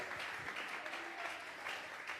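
A church congregation gives an offering of applause to God during a Tuesday Bible study, a soft, steady wash of clapping with faint voices underneath.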